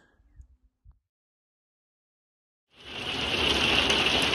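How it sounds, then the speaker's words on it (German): Hail hammers down outside a camper during a thunderstorm near Peak Lenin. After a few faint knocks and near silence, it starts abruptly as a loud, dense, steady roar of pelting ice. "es hagelt draußen"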